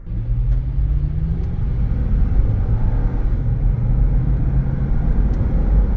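A 2013 Lexus GX 460 accelerates hard from inside the cabin, its engine note climbing, dropping at a gear shift and climbing again under a loud steady road rumble, with no talking.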